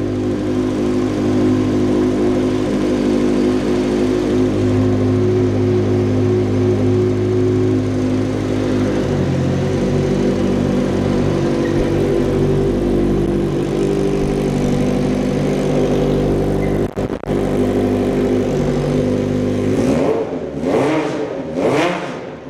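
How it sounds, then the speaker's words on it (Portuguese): Close, loud vintage 750 motorcycle engine warming up at a steady throbbing idle, with a brief dip partway through, then several sharp throttle blips rising and falling near the end; no talk. "E já que falamos de ronco dessa moto, nada mais justo do que dar uma partida e ouvir o ronco dela."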